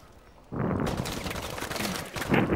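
A burst pistol fires in a video game, a loud, dense rattle of rapid shots that kicks in suddenly after a quiet moment and carries on, swelling again near the end.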